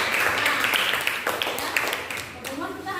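Classroom applause for a student named Cahaya, a steady wash of many hands clapping together at close range, tapering off near the end as a voice begins to speak.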